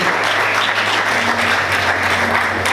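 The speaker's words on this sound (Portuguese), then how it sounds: "Vamos aplaudir o Senhor, amém?" A church congregation applauds together in a loud, sustained wash of clapping that stays dense and even from start to finish.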